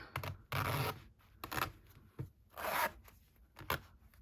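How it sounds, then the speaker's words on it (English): A zipper is pulled open and shut in several quick, close bursts of ripping and scraping, separated by short quiet gaps. "that's a really nice feel to that zipper"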